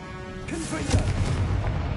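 The Confringo blast spell cast in Hogwarts Legacy: a rising whooshing cast followed by a deep, booming explosive impact, loud and close, decaying into a rumbling tail.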